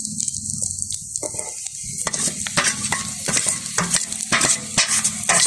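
Potatoes sizzle in a hot pan while a utensil scrapes and stirs, producing irregular clacks and scraping strokes over a continuous frying hiss.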